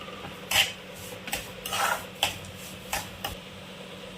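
Semolina sheera with cashews, almonds, coconut and sugar is stirred in a pan, heard as irregular scrapes and clinks of a spoon against metal over a soft, low hiss.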